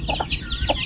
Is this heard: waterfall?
no